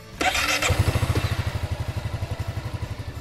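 A Honda Forza 350 scooter from 2021 fires up on its electric starter: a brief starter whir, then the engine catches and settles into a steady, pulsing idle, close and loud.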